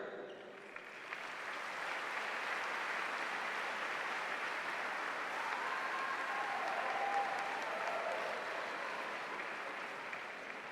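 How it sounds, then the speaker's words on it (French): Crowd at a Cesta Punta Grand Slam final in Saint-Jean-de-Luz applauding a Basque dancer, a steady, sustained wash of clapping for about ten seconds, moderately distant. "Merci d'applaudir Oyan"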